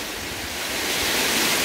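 Steady rushing roar of a waterfall in Baegun Valley on Jirisan, a mountain stream gorge, heard as close, even broadband water noise for a brief moment with no voices.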